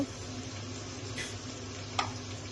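Tadka tempering for khichdi sizzles quietly in a pan with green chilli and salt, a soft steady fry with a couple of brief stirring scrapes and no talk.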